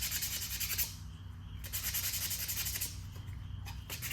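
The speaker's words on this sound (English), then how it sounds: "we're just going to sand this lightly" Adhesive 220 grit sandpaper rubs lightly over the body of a 50-year-old pedal tractor, soft close scratchy strokes in a few even passes, fairly faint.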